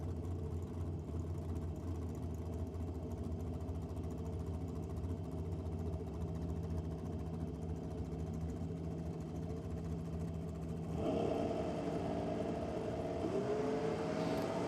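An altered dragster on a drag strip at a nitro championship meeting, heard as a steady engine roar and drone holding for many seconds, with a rising note near the end.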